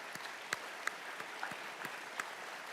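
Applause from a small audience in an indoor room, a thin scatter of claps with a few sharper hits standing out, steady and moderately quiet, with no talking over it.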